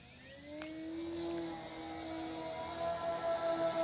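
Electric RC Carbon Z Cub SS 2.1m model airplane flying at full throttle, a steady motor-and-propeller whine with rising and falling pitch as it passes, continuous and moderately loud with no talk.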